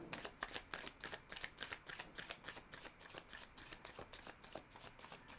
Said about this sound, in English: we're going to do one more rifle and shuffle